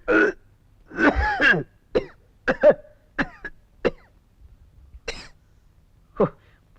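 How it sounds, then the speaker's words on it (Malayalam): Several harsh coughs in bursts, fairly close, with short pauses between them, a couple of heavier hacking coughs near the start and another near the end. "നിന്റെ ചുമയൊന്ന് നിർത്ത്"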